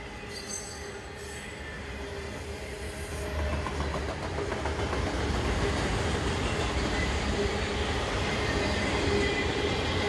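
Conrail freight train M205, running from EBSR to Louisville, rolls past at Voorheesville with dense wheel and rail rumble and some squealing, swelling louder after a few seconds and staying steady and close to the end.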